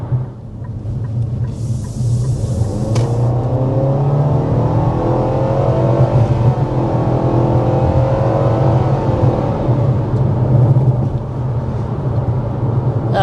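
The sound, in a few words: 2025 Nissan Kicks accelerating with CVT transmission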